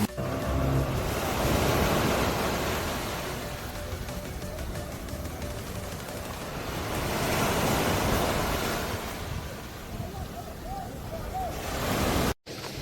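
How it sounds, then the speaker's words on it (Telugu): Gentle ocean waves wash ashore at Sinquerim beach in Goa, a steady surging roar swelling and easing through the clip, with wind buffeting the microphone. "సింక్వేరియం బీచ్ వేవ్స్ తక్కువగా వస్తాయి"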